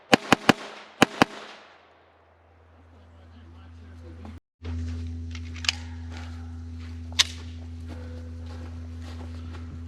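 A Taurus TX22 .22 pistol fires four sharp, quick shots in close succession, followed by a steady low hum and a couple of fainter isolated cracks.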